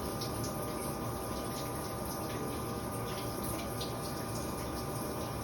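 Shower water runs steadily as a soft, even hiss, with no talking and no breaks.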